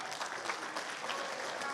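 An audience claps throughout an Islamic sermon (ceramah) in Saudi Arabia. The applause is dense and steady, with no gaps for its full length.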